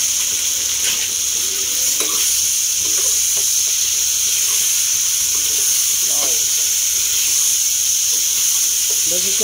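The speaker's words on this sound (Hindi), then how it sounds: "ये फैन के डाल दिए हैं तड़के में" Steady loud sizzling hiss of fennel seeds frying in hot tempering oil, continuous and close, with occasional faint stirring clinks underneath.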